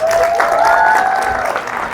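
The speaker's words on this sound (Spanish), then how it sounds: "Un aplauso para los papás." Church congregation clapping for the fathers on Father's Day, a short loud round of applause with a whistle or cheering tone rising over the claps, then easing off.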